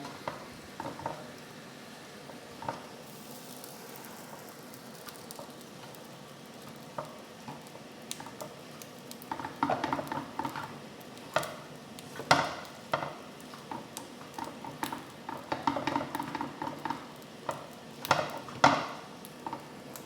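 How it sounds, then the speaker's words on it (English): Rice is stir-fried in a pan, cooked earlier in a rice cooker and still warm, with ingredients folded in: soft sizzling under scattered scraping and clinking strokes that grow busier and louder toward the end, with no talking. "So it should be pretty good for stir fry."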